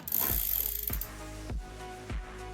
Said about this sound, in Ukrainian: зажав я вже барабана і дивіться, як тепер крутиться